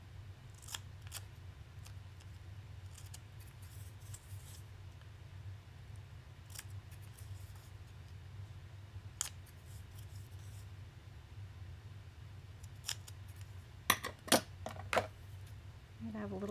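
Scissors snip through glassine paper in a few sharp, quiet cuts that cluster near the end, over a steady low hum of a room.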